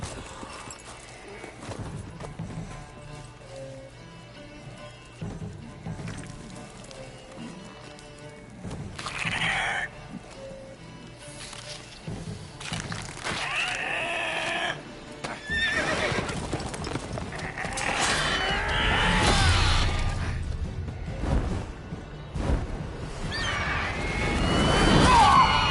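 Horse hooves clip-clop in Witcher 3 on PS5, with whinnies and neighs rising over the trotting as it grows louder toward the end.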